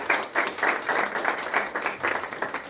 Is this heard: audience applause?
yes